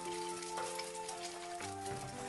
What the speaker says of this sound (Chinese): 再利用煎豆腐的油把鸡蛋煎一下